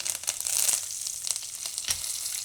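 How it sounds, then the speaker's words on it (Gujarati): Peanuts roast in hot oil for sabudana khichdi with a close, crackling sizzle full of quick pops and spits, steady throughout. "સિંગદાણાને થોડાક આમાં શેકાવા દેવાના તેલમાં આ રીતે"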